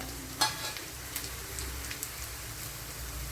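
Dried red chillies and cashew nuts fry in hot oil in a pan, giving a dense, even crackling sizzle like light rain, with a few brief clicks and scrapes and no voices.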